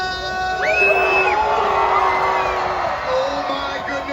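A large arena crowd screams and cheers at a Hot Wheels Monster Trucks Live show, a sustained roar with whoops and a few high shrieking voices rising over it, loud and lasting throughout.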